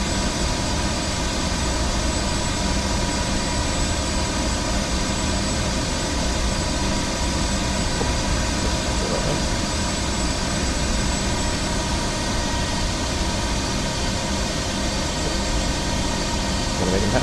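A steady, loud jet engine roar from an ERJ175 airliner in a flight simulator game during an arrival into Washington National Airport, a constant broadband drone that holds evenly throughout.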